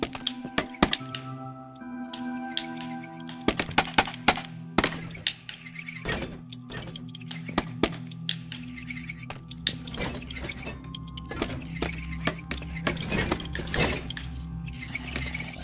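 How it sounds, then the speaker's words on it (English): Copper golems in Minecraft bang and clunk around, giving irregular sharp knocks and thuds scattered through a steady background of game ambience and tones. "that's the copper golems I'm hearing"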